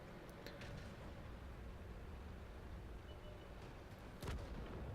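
A tank cannon fires in World of Tanks, a single sharp boom from a Skoda tank that stands out briefly over a low, constant battle rumble.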